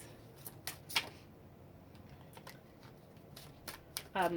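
Soft, quick riffling of cards comes in a few brief bursts against a quiet room, ending with a slightly louder flutter.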